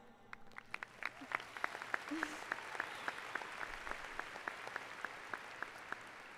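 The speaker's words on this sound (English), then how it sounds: "You have earned this and deserve to give yourself a round of applause." A graduation audience at a high school commencement breaks into applause, with sparse, distinct claps that gather into a thin, steady patter, faint and somewhat distant.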